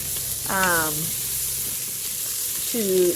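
Vegetables for a vegetable soup sear in a hot pan with a steady close hiss and sizzle, while a voice speaks briefly over it.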